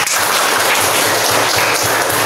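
An elementary school class applauds during a physical education lesson, a loud, dense burst of many children clapping together that holds steady throughout with no speech over it.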